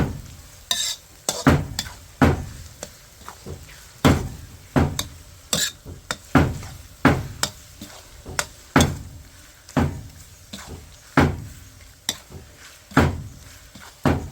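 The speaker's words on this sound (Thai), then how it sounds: "เจียวหอมแดง" Shallots and garlic fry in a pan, a sizzle punctuated by a regular series of sharp knocks and scrapes as a utensil stirs and taps the pan, loud and close throughout, with no talk.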